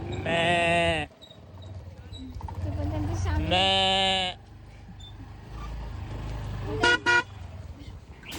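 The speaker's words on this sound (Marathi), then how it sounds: "आम्हाला जाताना एक मोठासा बकऱ्यांचा झुंड दिसला" A large herd of goats on a roadside bleats in loud, drawn-out calls, with bursts near the start, in the middle, and a quick pair near the end, over steady traffic rumble.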